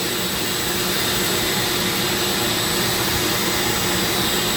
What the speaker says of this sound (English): I'm going to get my sander, my big disc sander.